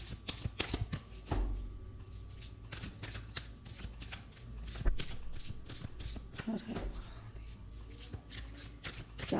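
A tarot card deck is shuffled up close during a Hindi tarot reading, with repeated riffling, flapping and tapping bursts over a low hum and a soft voice speaking at times.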